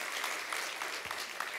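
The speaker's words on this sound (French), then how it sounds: "Ils vont vous applaudir maintenant qu'on vous a vraiment avec nous." Audience applause greets a guest at a Spring Campus event, a steady wash of clapping from a crowd, moderately loud and continuous for a short stretch with no voices on top.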